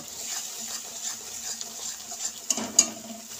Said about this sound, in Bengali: মশলাটা আমি অনবরত নাড়তে থাকবো নাহলে আমার তলায় ধরে যেতে পারে